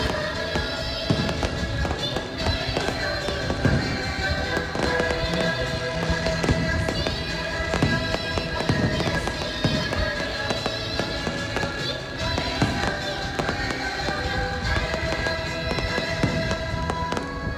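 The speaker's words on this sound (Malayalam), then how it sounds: "ഞങ്ങളുടെ തൊട്ടപ്പുറത്ത് തന്നെയായിരുന്നു വെടിക്കെട്ട് നടക്കുന്നുണ്ടായിരുന്നത്" Fireworks go off nearby at the Edapally church feast as a dense, continuous barrage of loud crackling bursts and pops, layered over a sustained tonal background.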